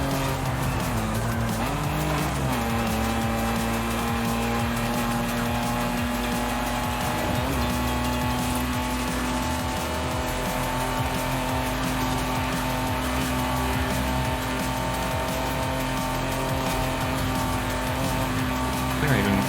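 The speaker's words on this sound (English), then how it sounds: "I am very pleased with how this car sounds." A racing car engine drones steadily throughout in Forza Horizon 5, with tire squeals and shifting revs, sounding like game audio.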